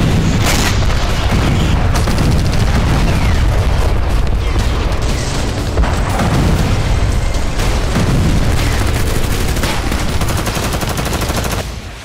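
Heavy explosions and bursts of gunfire pound without a break near the Lebanon border, loud, dense and echoing, with booms stacked over one another.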